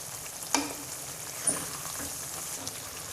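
Green chili pickle sizzles gently over low heat, a soft continuous frying crackle broken by a few scrapes of stirring, close and quiet.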